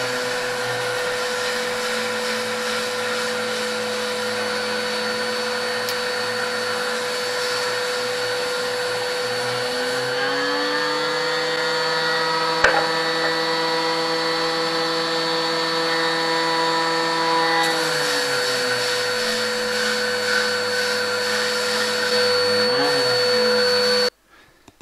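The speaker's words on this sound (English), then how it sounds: "So this sanding was to basically get all of the remaining bits of wood glue off" A power sander whines steadily on wood for a long stretch, removing dried wood glue, its pitch dipping and rising as pressure changes, then stops abruptly at the end.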